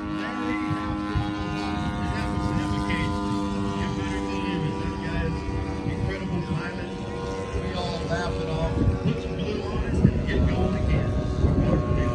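Propeller warbird airplane at the Bomber Field airplane show, a steady droning engine with strong harmonic tones running throughout, with people talking nearby.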